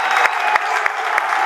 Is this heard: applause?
yes